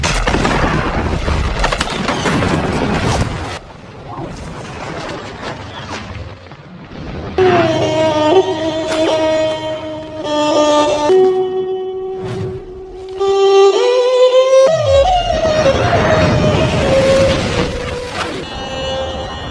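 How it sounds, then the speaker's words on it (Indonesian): A landmine blast in a Sherlock Holmes film: a deep booming detonation and debris rumble, followed by a swelling dramatic orchestral score with sustained tones. "Watson pun tak sengaja menginjak ranjau yang membuat mereka bertiga harus terkena ledakan"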